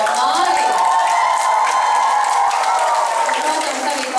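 Steady, dense audience clapping at a school Christmas performance by third- and fourth-grade pupils, continuous applause with some crowd voices blended in, holding level for the whole stretch.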